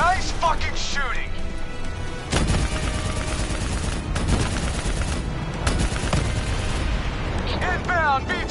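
Heavy gunfire in the Black Ops 3 video game, sustained bursts and blasts running throughout, loud and dense, with shouted game dialogue and a busy battle mix over it.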